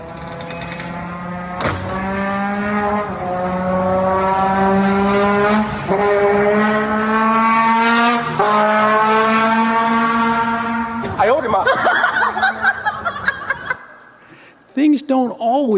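Ferrari sports car engine roaring loud and close, rising through several gear pulls with steady climbing pitch, then a shift to revving and a few sharp blips near the end.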